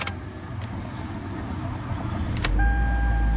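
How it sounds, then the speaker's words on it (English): A 2008 Toyota Camry's engine cranks and fires up near the end after a couple of brief clicks and a faint electronic chime, settling into a loud, steady low idle. "and it starts up the car and runs."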